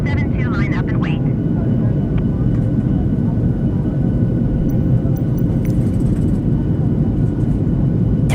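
Jet airliner engines spool up to takeoff thrust at the runway, a loud continuous roar that stays steady and dense throughout, with a faint radio voice early on.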